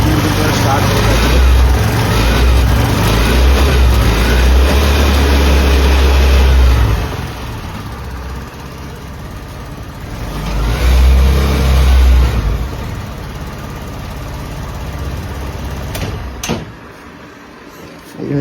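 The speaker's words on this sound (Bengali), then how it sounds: "আপনারা দেখতে পাচ্ছেন আমাদের ইঞ্জিন কিন্তু স্টার্ট হয়ে গেছে" A TVS Jupiter BS6 scooter with a faulty pickup wire and a high idle runs after starting, its engine a loud, low drone that rises and dips as a voice talks over it.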